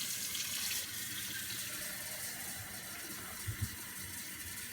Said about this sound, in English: And then I'm going to run some nice hot water.